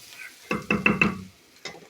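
A spoon stirs a soup base seasoned with Vegeta and salt in a pot, giving four quick scraping knocks in a row followed by one more after a short pause, close and alone.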